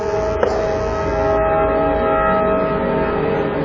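A passing train rumbles steadily nearby while its horn sounds in a long, sustained blast over the heavy rolling noise.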